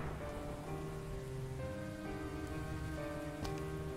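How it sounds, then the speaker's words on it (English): Steady rain on a Paris street in the video game Gibbous, a constant hiss of falling water with sustained musical tones layered over it; no talking. "Still in the rain."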